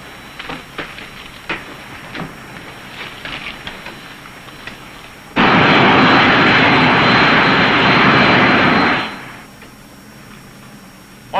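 Aircraft engine roar in a 1951 sci-fi film, quiet crackling at first, then a sudden loud steady roar for several seconds before fading back down.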